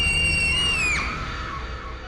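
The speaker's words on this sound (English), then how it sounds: "Somebody on the bus is screaming." A single high-pitched scream from someone on a bus rises and holds for about a second, then breaks and falls off, slightly distant and reverberant.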